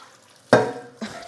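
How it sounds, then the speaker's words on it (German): Frying pan scrubbed with an ordinary kitchen sponge: two short, close, rough scraping strokes, the first louder and longer, over a quiet room. "wenn ich jetzt hier einen normalen Schwamm nehme und mache das so"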